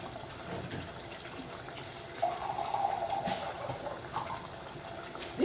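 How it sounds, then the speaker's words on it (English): A little water pours into a pot of boiling stew, a brief soft trickle over a quiet simmering background. It is fairly faint and heard alone, with no talking. "I'm just going to add a little bit of water."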